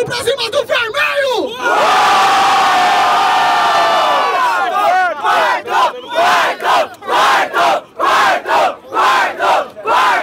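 A crowd at a rap battle final in Barueri, São Paulo roars with sustained cheering and shouting, then breaks into rhythmic pulsing chants, loud and close throughout.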